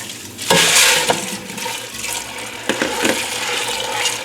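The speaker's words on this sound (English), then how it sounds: "we're just going to rinse these beans off" Pinto beans rinsed in a pan in a home kitchen, giving bursts of running, splashing water that swell and ease twice over a steady wet rush, close and fairly loud with no talking.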